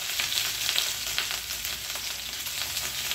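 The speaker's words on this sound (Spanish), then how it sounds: "voy a echar porque ya la cacerola ya está caliente" Meatballs sizzle and fry in a hot pot, a dense continuous crackle with small pops and occasional stirring, close and steady with no voices.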